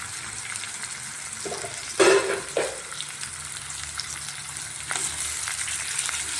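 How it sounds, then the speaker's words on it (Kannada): Small salted, squeezed bitter gourd pieces fry in a pan of tempering with a steady close hiss. A brief clatter and a louder burst come as they are tossed, and no one speaks. "ಒಂದು ಐದು ನಿಮಿಷ ಚೆನ್ನಾಗಿ ಫ್ರೈ ಮಾಡೋಣ"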